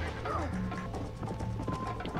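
Galloping horse hooves clop rhythmically in Red Dead Redemption, a steady run of muffled beats under background game sound and talking, with a brief whinny-like tone early on.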